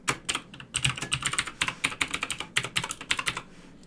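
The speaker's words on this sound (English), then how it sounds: "I know I have a really clicky keyboard" Rapid, steady clacking of a clicky computer keyboard being typed on during a Twitch stream, close and crisp with short bursts and brief pauses, no talking.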